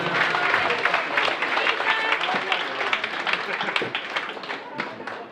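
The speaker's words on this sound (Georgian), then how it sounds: "კიდევ ერთხელ აპლოდისმენტები" A live audience at a stage event applauds with dense, sustained clapping throughout, fairly loud and close, and a presenter's voice is heard speaking over it.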